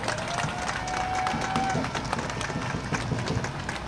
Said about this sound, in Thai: ขอเสียงปรบมือให้กับหมู่บ้านทะลุฟ้าและคนจากหมู่บ้านทะลุฟ้าทุกคนครับ